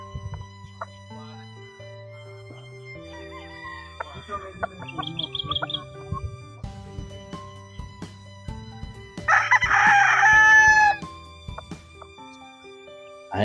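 Young gamefowl stag crowing at a game farm: one short, strained crow rises clearly above a quiet background of steady tones and scattered chirps and clucks.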